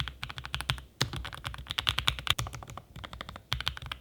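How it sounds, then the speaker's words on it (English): Typing on a Lofree Flow Lite mechanical keyboard, close and clear: a quick, steady run of crisp key clacks, with a few heavier strikes and short pauses in between. "I personally love the sound of the keys"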